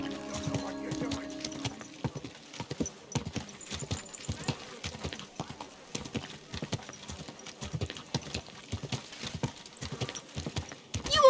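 Rhythmic hoof clip-clops of a horse in the video game Kingdom Come: Deliverance II trot steadily over a busy town ambient bed, with a horse whinny and faint voices nearby.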